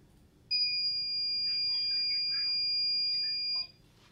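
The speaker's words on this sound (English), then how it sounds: "It'll make a noise because it's on a timer." A timer emits one long, steady electronic beep lasting about three seconds, loud and clear against a quiet room with faint background murmur.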